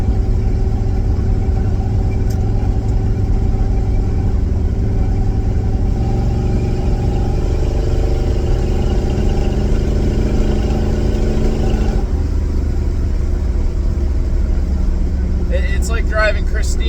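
A Buick 350 V8 engine runs with a steady, loud, close rumble that holds at an even level throughout, with no clear revving.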